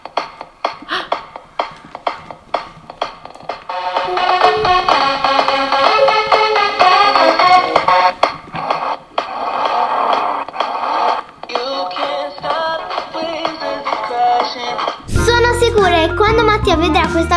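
A toy console plays electronic beeps and upbeat synthesized music, loud and close, with a sudden louder jingle near the end.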